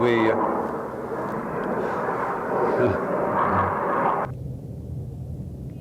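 An airplane passes overhead during an outdoor interview, a broad, steady roar that fills the background and then cuts off abruptly near the end, with a voice faintly under it.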